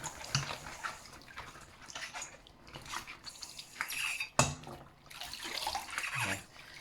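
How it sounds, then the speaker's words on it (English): Dishes and a blender are washed up under running water, with continuous splashing and gurgling broken by occasional clinks and knocks close at hand. "which gives it its final little rinse down and wash"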